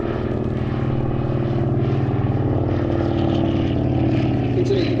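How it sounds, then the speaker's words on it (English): A Lockheed 12A Electra Junior twin-engine propeller plane flies in at the Sywell Airshow, its engines giving a loud, steady droning hum that holds for several seconds. "we see the Lockheed 12A Electra Junior coming in"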